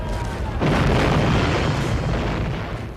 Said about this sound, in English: warships would pound each other to pieces at very close range with a steady barrage of cannon fire